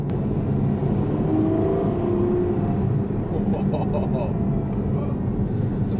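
A 730 bhp Ferrari F12 Berlinetta V12 running in sport mode with its exhaust valves open, giving a steady, loud, full-bodied drone heard from inside the cabin with no break across the clip.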